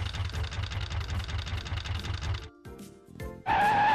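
A cartoon dump truck idles in a children's character-learning game while a little mole loads it with soil: a rhythmic, chugging engine pulse runs for about two and a half seconds, then cuts out into brief, bright game effects.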